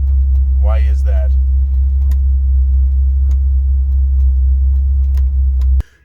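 A Vic Fury car engine idles with a strong, steady low rumble close by, while someone speaks briefly over it and a few faint clicks sound. The idle cuts off abruptly near the end.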